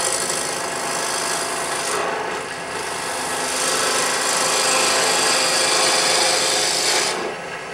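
Steady rasping hiss of a gouge shaving wood on a spinning lathe, continuous and close, with brief dips in intensity as the tool moves.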